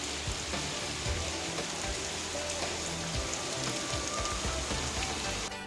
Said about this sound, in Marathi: तुम्ही बघू शकता किती वेग होता पावसाचा